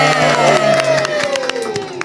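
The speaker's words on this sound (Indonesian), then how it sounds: "terima kasih loh, tepuk tangan loh." Loud clapping and cheering from a small group in a podcast studio, sharp hand claps over sustained whoops and excited voices, close to the microphone.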